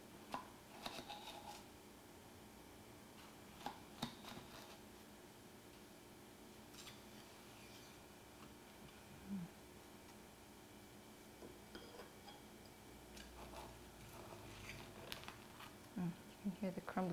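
A crumbly pavlova meringue being cut, giving faint, scattered crackles and brittle crunches in a quiet room, with soft clicks coming in small bursts and some louder snaps near the end.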